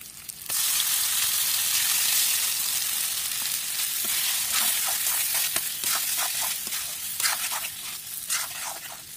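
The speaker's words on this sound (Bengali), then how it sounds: "এবার একটু দিয়ে দেবো হলুদ, একটু ভালো করে ভেজে নেবো কাঁচকলাগুলো।" Green plantains fry with turmeric in a pan, a loud continuous sizzle with crackling pops and occasional stirring scrapes, close up and with no voices.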